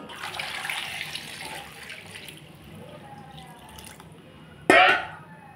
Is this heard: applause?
no